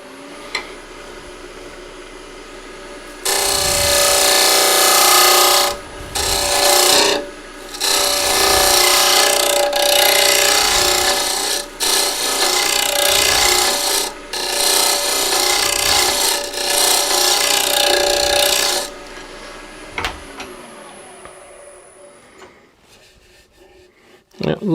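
A woodturning lathe spins a wooden yarn bowl while a tool or abrasive smooths its inside, producing a loud, harsh rasping hiss in long bursts broken by short pauses before it tails off to a quieter hum.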